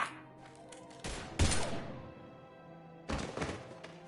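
Gunfire in the Mass Effect video game: a few separate sharp, loud bursts of shooting with quieter gaps between them, heard up close and without talking.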